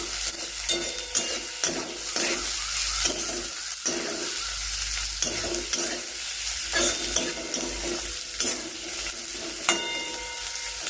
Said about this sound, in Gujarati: હવે નાખી દઈએ ડુંગળી. ડુંગળી શેકી નાખીએ કમ્પ્લીટ.